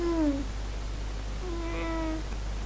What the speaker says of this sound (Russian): Вот такое вот покрикивание гостёнина